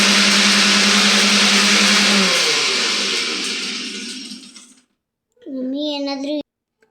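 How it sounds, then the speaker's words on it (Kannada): Mixer grinder coarsely grinding coconut, mustard and curry leaves, a loud close whirring that winds down and stops, followed by a short second burst of whining motor. "ಇದಿಷ್ಟನ್ನು ಈಗ ತರ್ತರಿಯಾಗಿ ರುಬ್ಕೊಂಬರೋಣ."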